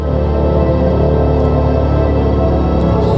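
Synthetic acceleration sound from a BMW i5 eDrive40 electric car, a loud, steady, dense electronic drone that holds throughout with no talk over it.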